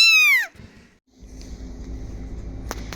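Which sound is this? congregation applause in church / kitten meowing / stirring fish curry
kitten meowing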